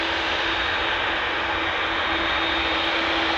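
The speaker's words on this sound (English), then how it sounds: "KLM flight 743 going to Lima in Peru, 777-300 ER, 6 years old" A six-year-old KLM Boeing 777-300ER airliner on flight 743 to Lima roars at Amsterdam Schiphol Airport, its jet engines giving a loud, steady, unbroken drone with no voices.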